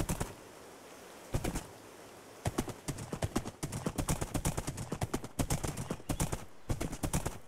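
Horse hooves clip-clop in Minecraft Bedrock on a Frozen II adventure map, rapid loud clattering steps starting sparse and then running in a quick continuous rhythm, close and alone without talk.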